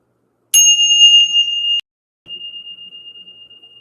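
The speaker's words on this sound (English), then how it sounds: "We're going to ring the bell." A ringing bell struck twice to clear energy, with a bright metallic ding sustaining about a second, then a second, softer strike ringing on steadily, with no one talking.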